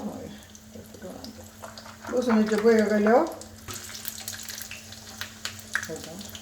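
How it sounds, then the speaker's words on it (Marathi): Mustard seeds, urad dal and garlic hit hot oil in a pan and sizzle loudly for about a second before settling to a quieter crackle, with someone talking before and after. "पण्णाक तेल दवरलें, ताका सासाव घालें, इल्ली उडदाची दाळ घाली आनी 2 लसुणाच्यो बयो घाल्यो"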